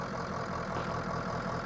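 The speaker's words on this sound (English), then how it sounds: "Nice diesel engine." Steady, close idle of a diesel snow plow truck engine in the Snow Plow game, a continuous low rumble with a faint knocking texture and no voices.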